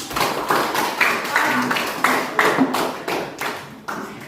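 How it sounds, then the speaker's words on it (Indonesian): A classroom group claps for their classmates, loud near hand claps falling in a steady rhythmic beat of about two per second, alone without talk. "kita beri tepuk tangan untuk kelompok."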